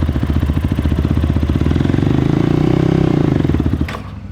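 A dirt bike engine revs under a little throttle, loud and close, with a steady buzzing pulse that holds for about four seconds before easing off at the end.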